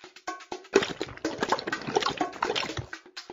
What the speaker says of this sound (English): Click on the watering trough to give our pony a drink.